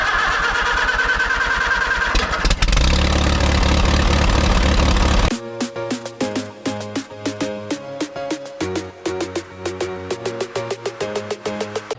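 The air-cooled engine of a 1976 VW dune buggy with a misfire cranks loudly and catches. It settles into a rough, uneven idle, loping and stumbling as some cylinders drop out and cut back in. The engine is close by, and no one talks over it.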